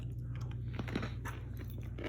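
Someone chews crispy homemade French fries close to the microphone, with repeated crunching bites over a steady low hum.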